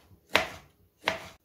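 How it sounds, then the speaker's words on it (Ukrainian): A kitchen knife cuts a tomato into thin strips on a board for a salad: two crisp, separate chops about three-quarters of a second apart, close and clear in an otherwise quiet room. "А помідорку нарізаю теж соломкою."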